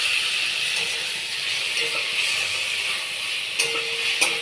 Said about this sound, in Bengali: একটু ভেজে নেব এখন এই রসুন পেঁয়াজের সঙ্গে আদা বাটা টমেটো কুচি আর কাঁচা লঙ্কা চেরা করা দিয়ে দেবো